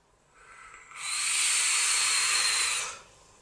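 A Serpent RDTA rebuildable vape atomizer with vertical dual coils, hissing during a draw at 40 watts: one steady, close, bright hiss that swells up, holds for about two seconds, then cuts off, with no talking.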